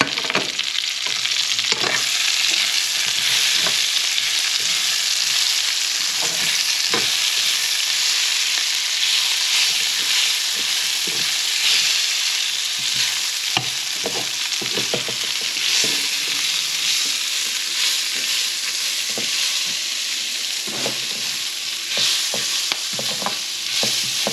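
Garlic and onion sizzle steadily in a hot pan with a constant frying hiss, broken by occasional scraping stirs, for adobong sitaw.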